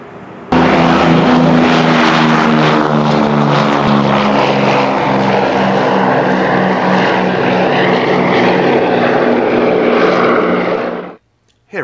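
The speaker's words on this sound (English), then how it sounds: "Shut up, compressor." A model-building airbrush compressor runs with a loud, steady, droning hum full of stacked tones. It holds evenly for about ten seconds, then cuts off abruptly near the end, with no talking.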